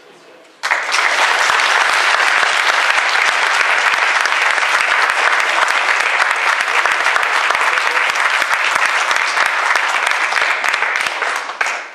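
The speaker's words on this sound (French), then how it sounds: "On vous applaudit." Sustained applause from an audience during an emotional tribute presentation, steady dense clapping that starts abruptly and holds at full strength for about eleven seconds before tapering off.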